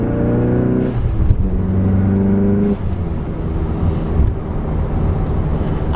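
A modified Volkswagen GTI pulls hard under acceleration, its engine note climbing through a gear before a shift and then building again, loud and close from inside the car with no talk.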